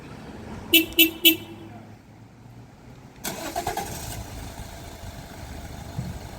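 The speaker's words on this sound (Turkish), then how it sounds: "Şimdi buradayken uzaktan çalıştırmayı yapalım." A 2015 Toyota car started remotely: three short chirps or beeps from the car, a pause, then the engine catches and runs at a low idle, heard from nearby.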